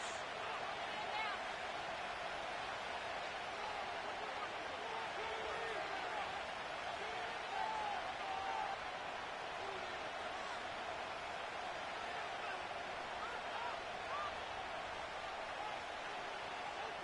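Stadium crowd roar at Bank of America Stadium in Charlotte, home of the Panthers, within an EA Sports NFL football game: a steady, dense wash of cheering and murmur running the whole time with light applause swells and voices mixed in.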